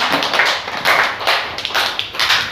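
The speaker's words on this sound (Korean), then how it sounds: "우리 하나님께 영광의 박수를 올려드립니다" A Korean church congregation breaks into loud, dense applause during a Sunday service, the clapping continuous and close with no talking over it.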